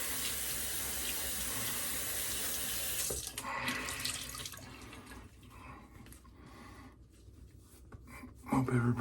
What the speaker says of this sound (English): Alright, rinse off with some cold water.